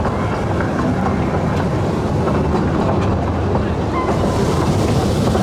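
The Icon roller coaster train at Blackpool Pleasure Beach roars steadily along its track, a loud continuous rumble with clattering and wind noise throughout.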